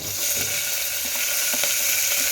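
Peppercorns and slit green chillies fry in hot ghee, giving a steady broadband sizzle with faint crackles and pops throughout, close and fairly loud, no voices.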